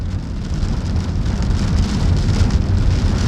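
Heavy rain during Tropical Storm Isaias in the Dominican Republic, a dense, steady hiss of downpour on surfaces with a low rumble underneath, loud and unbroken, no voices.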